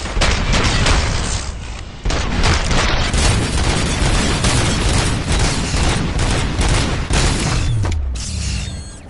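Sustained gunfire in the shooter game RoboCop: Rogue City, loud and dense with booming impacts and mechanical clatter running continuously with no pause.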